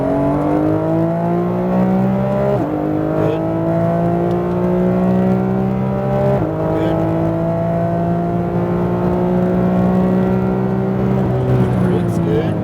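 Porsche GT3 RS accelerating hard on the Speedvegas track, a loud, steady in-car engine drone rising in pitch through each gear and dropping briefly at two upshifts, with an instructor's voice heard over it.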